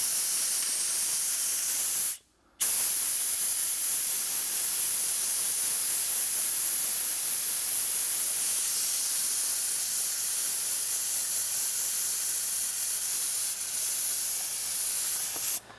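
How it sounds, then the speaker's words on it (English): Compressed air blasts debris out of the tight spots of leather car seats. The steady, loud broadband hiss runs almost without a break, stopping once for a moment before resuming for the rest of the clip. "I'm also going to take the compressed air and go through all the tight spots just to make sure I blast all this stuff out"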